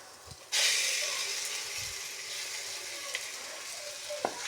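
Ground masala paste hits a hot pan of softened shallots and garlic for a mackerel curry, bursting into a sudden loud sizzle that settles into a steady hiss with small pops.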